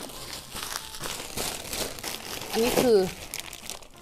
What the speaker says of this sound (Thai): ถุงพลาสติกเอามาทำไมเนี่ย